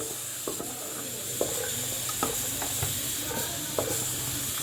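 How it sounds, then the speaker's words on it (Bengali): Ginger garlic paste and onions sautéing for a meat curry, a continuous close sizzle with regular scraping stirs of a spoon against the pan every second or so. "তো চলো এটাকে একটু কষিয়ে নিই এক দু মিনিট"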